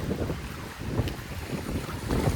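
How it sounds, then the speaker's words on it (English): Strong gusts buffet the microphone over the splash and lapping of choppy, whitecapped water on West Carey Pond, a rough, continuous outdoor roar. "very windy today, so there's waves, whitecaps, whatever you want to call them"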